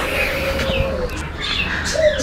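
Pigeons outside a loft housing ringed young birds give soft calls near and far, with a low coo and a few chirps over steady background hum; no one talks.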